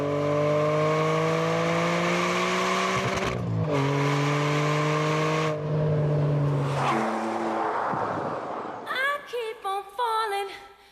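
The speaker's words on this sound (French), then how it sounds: "Vous devenez totalement addict, entièrement conquis par la mélodie du V12." A Ferrari 575M Maranello V12 engine running through rising revs with gear changes, its smooth high-pitched howl climbing then dropping, followed by sharp blips of throttle near the end; loud and close.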